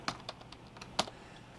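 Keys tapped on a computer keyboard, a short run of quiet, close clicks with two sharper strokes, heard alone with no talking.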